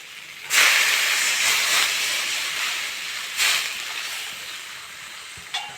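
Water poured onto hot spiced potatoes in a pan sets off a loud sudden steam hiss that slowly fades, then a second smaller surge of hissing and a brief clink at the end, close and without voices.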